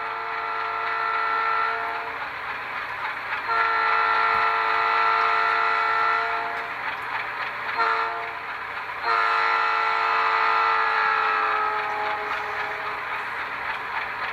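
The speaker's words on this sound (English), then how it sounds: "5 is Doppler horn." A Doppler horn effect from an ESU LokSound decoder in a Rapido HO scale RS-11 model locomotive blares steadily in long harmonic blasts, with the pitch audibly bending downward near the end.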